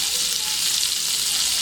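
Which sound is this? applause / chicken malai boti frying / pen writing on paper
chicken malai boti frying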